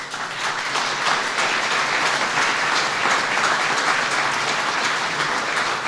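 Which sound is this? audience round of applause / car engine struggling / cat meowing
audience round of applause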